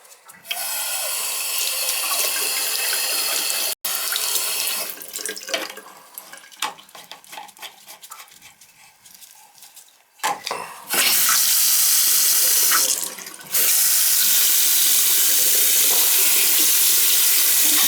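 Tap water running in a winterized cottage after a freeze-up, with service just restored: a steady rushing flow, then several seconds of sputtering, uneven bursts, then a loud, strong, continuous gush to the end.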